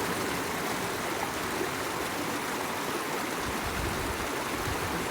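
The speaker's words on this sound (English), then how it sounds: "of running water." Running water of a stream flows steadily as a continuous, soft, broadband rush with no breaks and no voices.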